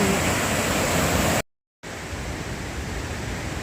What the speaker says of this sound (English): You got your peaceful, tranquil creek right there, and then you have a raging river.